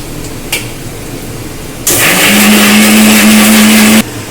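A kitchen mixer grinder blends a spice paste with added water, starting abruptly after a brief knock and running loud and close with a steady whirring roar for about two seconds before cutting off sharply.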